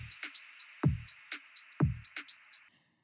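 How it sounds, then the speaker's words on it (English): A garage-style hi-hat drum loop with the lows cut and stereo width added: crisp, evenly spaced ticks in a swung groove, with deeper thumps landing on every other beat, clean and alone before stopping abruptly. "I'll put the hat loop in first so that you can hear the foundation hat that we're going for."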